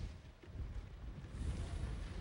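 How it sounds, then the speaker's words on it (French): Wind gusts across a beach during a sports event at Pornichet, a steady broadband rumble buffeting the microphone and swelling slightly toward the end, with no voices. "le vent s'est bien levé"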